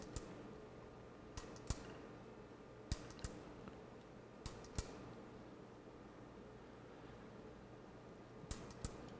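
Mechanical clicking from the tape mechanism of a Kenwood KRC-858 car stereo under repair, a few sharp clicks spaced irregularly over a faint steady background hum, with no voices.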